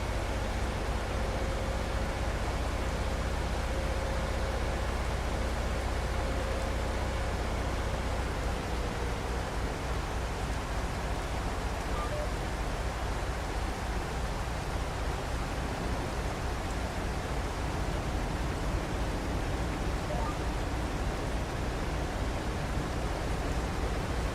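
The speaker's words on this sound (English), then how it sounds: "it's raining like hell, and it looks good, but it doesn't show up on the ground" Heavy in-game rain in Farming Simulator 22, a dense, unbroken roar of downpour that stays loud and even throughout, with no talk over it.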